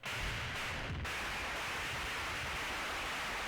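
Over-processed drum sound effect collapsed into continuous loud white noise, a dense even hiss with a brief flicker near the start, holding steady throughout.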